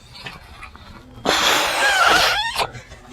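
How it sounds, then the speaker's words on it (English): One long, forceful breath is blown into the inflatable bladder of a Forceatt camping hammock: a loud, close, rushing gust lasting over a second, ending abruptly, alone without speech. "I can go ahead and put one more breath in here"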